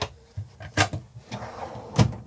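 Drawers, including a cutlery drawer, opening and closing in the kitchen of a Dethleffs Globebus I 6 Signature Edition motorhome: several close, light clunks and slides, with two sharper knocks standing out.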